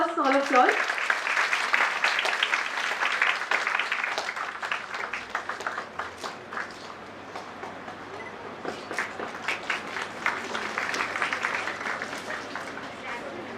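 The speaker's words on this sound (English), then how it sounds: "A round of applause, all of you all." Audience applause at a webinar felicitation of a professor, a sustained round of clapping that starts strong, dips in the middle and swells again, with a voice briefly at the start.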